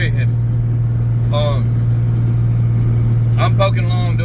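A loud truck towing a heavily overloaded dump trailer cruises along a four-lane road, its engine droning steadily with a strong constant hum, while a voice breaks in briefly over it.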